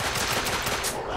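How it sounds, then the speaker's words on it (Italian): Loud, rapid bursts of automatic gunfire in The Order 1886 video game, a dense crackling volley lasting about a second with no voices. "Al culo te sparo, Ligan."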